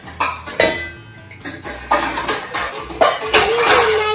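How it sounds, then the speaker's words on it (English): Bowls and dishes clink and clatter close by in a home kitchen while vegan brownies are mixed, with several sharp ceramic knocks and scrapes at irregular intervals and faint talk in the background. "Trying to put in a microwave safe bowl."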